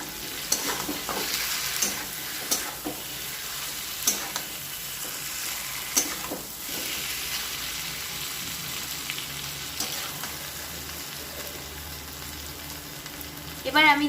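Steady low sizzle of marinated chicken and onions frying over a low gas flame for chicken kosha, with occasional soft scrapes and stirring taps throughout, no voice heard.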